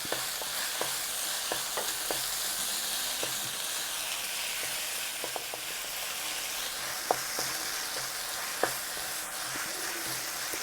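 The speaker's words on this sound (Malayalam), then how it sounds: "തക്കാളി ചേർത്തിട്ട് നല്ലോണം വഴറ്റി തക്കാളി ഒന്ന് ഇതിൻ്റെ കൂടെ ഒന്ന് മാഷായി വരണം." Chopped tomatoes sautéing in a pan for chicken curry give a soft, steady sizzle with occasional stirring clicks and a couple of sharper scrapes, close by and fairly quiet.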